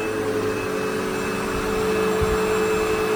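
A vacuum cleaner runs on its boost setting with a loud, steady roaring whoosh and a constant motor whine, heard close and alone for the whole stretch.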